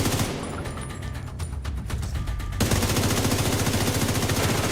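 Rapid automatic gunfire in The Division video game, bursts of shots that build into a steady, loud stream of fire with no talk over it.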